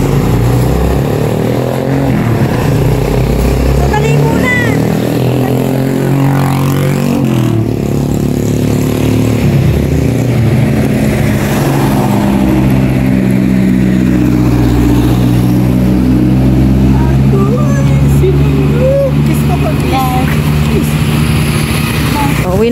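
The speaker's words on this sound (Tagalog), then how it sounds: "Maraming sasakyan." Heavy roadside traffic streams past, engines of cars and motorcycles droning loudly and continuously with rising and falling revs of passing vehicles, while people talk faintly underneath.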